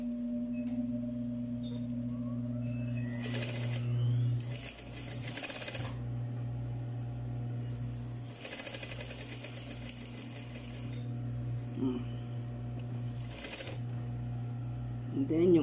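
A sewing machine stitches a fabric face mask, its steady whirring hum running through with short bursts of rapid needle clatter and brief pauses, close and clear, with a voice speaking quietly in the background.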